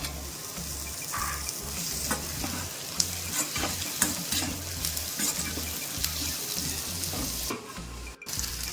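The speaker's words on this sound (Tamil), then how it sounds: "வெங்காயம் நல்லாவே வதங்கிடுது" Onions and tomato sauté in a pan with a strong, close sizzle and repeated scraping stir strokes, a brief tap-like splash near the end, and no talking.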